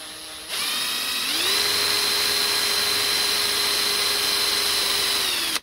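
A small drill bit bores into a copper penny being made into a washer: the motor spins up to a steady high-pitched whine, holds it for several seconds, then winds down and cuts off.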